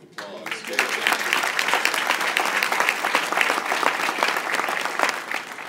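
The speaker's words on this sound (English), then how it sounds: "I think we owe Gabe a big round of applause." Vigorous applause from an audience at a community event marking fifteen years since the Cincinnati riots, swelling quickly after a brief lead-in and holding as a loud, sustained wash of many hands clapping.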